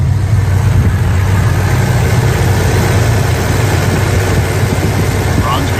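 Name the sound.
muscle car engine idling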